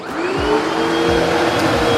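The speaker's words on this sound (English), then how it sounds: "Oh, it's like a vacuum." A home carpet cleaner with its tank filled with water and cleaning solution runs with a loud, steady vacuum-like whine and drone, close by and continuous, without talk.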